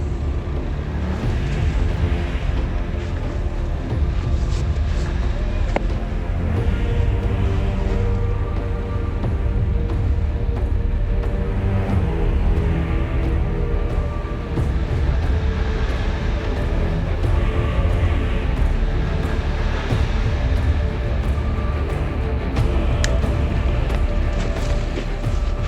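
A Ford Bronco engine roars at steady high revs while the truck crawls over rough terrain, a loud, continuous low drone with no pauses across the stretch.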